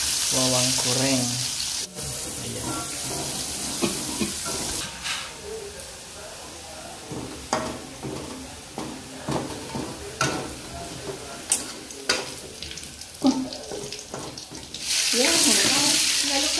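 Food sizzling and crackling in a pan with irregular bursts, stirring clatter and running water, plus brief bits of background voice.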